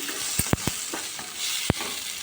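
Mustard seeds, cumin and curry leaves fry in hot oil for a tamarind roti pachadi, giving a steady close sizzle and a few sharp pops and crackles.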